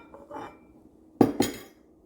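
Three eggs are cracked into a mixing bowl, heard as a faint tap followed by two sharp, close knocks of shell against the bowl's rim in quick succession.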